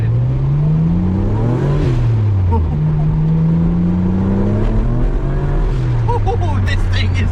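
A car engine revs and accelerates on a test drive after a cylinder rebuild, rising and falling in pitch through several gear changes, loud and close, with faint voice sounds mixed in.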